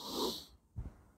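One long, deep breath drawn in, heard close and alone, with a short airy rush followed by a low, throaty intake.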